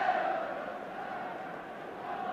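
Football crowd at a 1984 match between Liverpool and Sheffield Wednesday, a steady roar of applause and cheering from the stands held at a constant level throughout.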